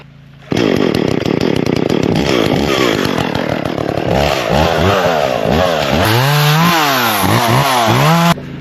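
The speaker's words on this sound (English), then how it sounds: "this mesquite tree here dropped a limb right into the yard. We got the chainsaw." A chainsaw starts up loud and close, its engine revving and bogging repeatedly as it cuts through a mesquite tree limb, continuous for several seconds.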